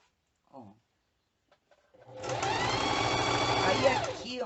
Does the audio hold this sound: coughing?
no